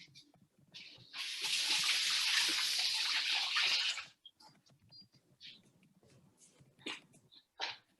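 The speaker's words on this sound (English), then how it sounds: "I put about 1 inch of boiled water" About an inch of pre-boiled water pours steadily into a pot for about three seconds, a bright rushing splash, followed by quieter clinks and handling noises.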